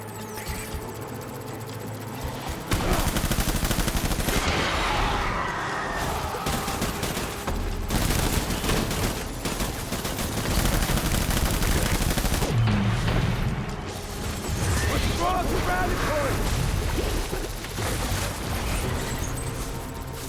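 Dense bursts of automatic gunfire in the video game Death Stranding, a sustained loud fusillade with brief lulls and renewed volleys over roughly twenty seconds.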